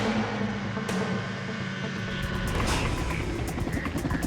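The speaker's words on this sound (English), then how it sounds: "The chopper takes off to conduct an aerial search." A helicopter takes off for an aerial search in remote Alaskan mountains, its rotor thumping and engine whine building steadily and growing louder and more rhythmic toward the end.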